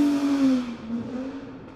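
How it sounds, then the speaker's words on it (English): A vintage Ferrari 250 GTO engine sings at speed, a loud continuous tone that sweeps slightly as revs shift, heard from close by with no talk. "the engine and the sound blaring out the back"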